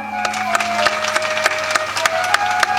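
Steady applause from a crowd of women at a Shiv Katha gathering in a village, sharp overlapping claps with a few distinct louder slaps, continuous for a few seconds.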